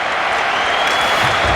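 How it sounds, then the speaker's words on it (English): Hockey fans at a New York Rangers versus Edmonton Oilers game give a mock cheer for the linesman, a loud, steady arena roar of crowd noise and applause lasting the whole short moment. "Fans with a mock cheer for the linesman."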